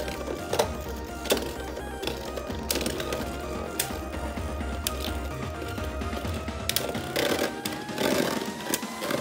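Lego spinning tops battle in a stadium, grinding and scraping against each other. The rapid rattling, clicking mechanical chatter is broken by sharp clacks of impact, and it stays fairly quiet and close, with no voices.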